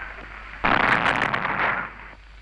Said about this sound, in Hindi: ये धमाका गांधी जी की हत्या करने के लिए एक हिंदू शरणार्थी के फेंके हुए बम का था